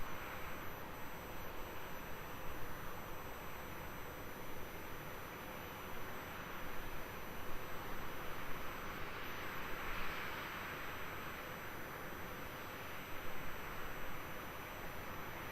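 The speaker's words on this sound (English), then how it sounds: "here's our velocity heading down to Launceston. Taking off runway 27 there." Virgin Australia Velocity jet, flight 9538 to Launceston, taking off from runway 27 at Melbourne Airport, heard from a distance as a steady broad roar that swells gently, with no one speaking.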